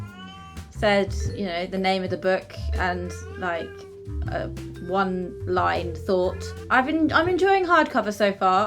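A house cat meows several times in short, rising calls, mixed in under continuous close talking from a person discussing books.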